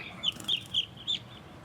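One-week-old chicks on a Philippine poultry farm peep in four or five sharp, high chirps spaced about a quarter second apart, close and fairly clear over a quiet background.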